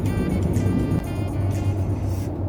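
A Renault Trucks D16 E-Tech fully electric truck drives along a road in Vendée, giving a low, steady rolling rumble of tyres and road noise with only a faint motor whine.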